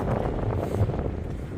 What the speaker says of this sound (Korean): 오늘 바람이 불어서